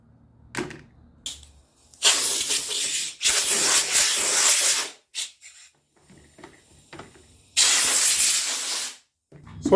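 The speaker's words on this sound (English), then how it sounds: "So I like to just give this a quick blow down, as just blow it down with the air that you saw" Compressed air hisses in several loud blasts, each lasting one to two seconds, blowing seeds out of a pepper grinder used for homegrown Thai chili peppers, with quieter rattling between bursts.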